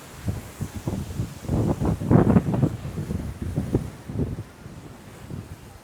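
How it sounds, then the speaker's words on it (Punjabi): Strong waves in high wind crash against sea walls on the coast at Kanyakumari, with rumbling surges and steady wind buffeting on the microphone. "ਛੱਲਾਂ ਬਹੁਤ ਤੇਜ਼ ਵੱਜੀ ਜਾਂਦੀਆਂ ਕੰਧਾਂ ਦੇ ਨਾਲ ਕਿਉਂਕਿ ਹਵਾ ਬਹੁਤ ਤੇਜ਼ ਚੱਲੀ ਜਾਂਦੀ ਅੱਜ"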